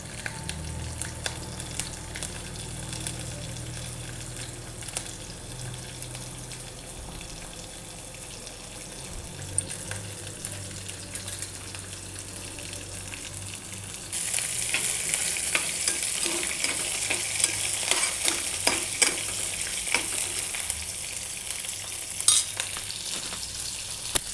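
Peanuts and green chillies fry in oil with cumin in a home kitchen pan, a soft steady sizzle with occasional stirring scrapes that turns brighter and louder partway through, no speech.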